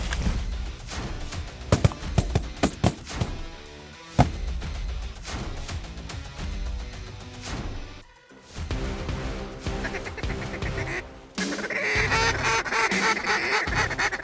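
Flocks of ducks and geese on an evening flight over Saskatchewan, calling in overlapping quacks and honks amid a busy, layered outdoor mix that swells and thins across the stretch.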